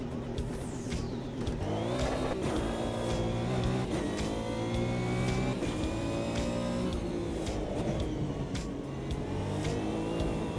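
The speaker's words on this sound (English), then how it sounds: "Let's test out the suspension on this GT1 Porsche." A Porsche GT1 race car in the sim racing game AMS2 revs and accelerates through gear changes, its engine loud and close with rising and falling harmonic whine throughout.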